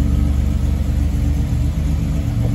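A 1985 Buick Grand National's engine idles with a steady, close low rumble, constant and unbroken with no voices over it.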